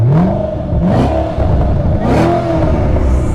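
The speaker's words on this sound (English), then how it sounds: "Wait, is this naturally aspirated? Supercharged. I thought I heard a supercharger." A supercharged 2007 Ford Mustang Shelby GT500 with a manual gearbox revs hard several times in quick succession, its pitch rising and falling with each blip, loud and close with no talking.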